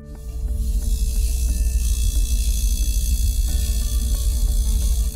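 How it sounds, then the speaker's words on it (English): LG hybrid dryer compressor running with a steady, loud low hum and buzz, a continuous drone with faint intermittent clicks. "Another sound you might hear is the compressor."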